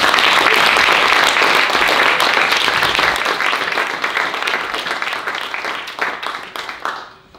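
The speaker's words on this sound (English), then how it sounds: "Please give them a round of applause for coming out." Applause from an audience at a Korean poetry and translation night, loud and full at first, then thinning into scattered claps that taper off and stop.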